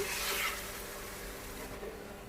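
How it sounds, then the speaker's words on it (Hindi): Ground tomatoes fry in a pan for palak chicken, giving a steady, faint broadband sizzle with a brief louder hiss near the start, close and with no talk. "अभी ग्राइंड किए हुए टमाटर डालूंगी इसमें। इसे थोड़ी देर भूनेंगे हम।"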